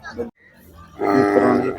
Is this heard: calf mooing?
yes